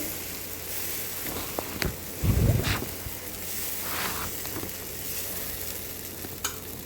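Pesarattu batter sizzles on a hot pan as it is spread, a soft, continuous crackle that holds the background, broken by a brief louder scraping burst near the middle and a few light taps.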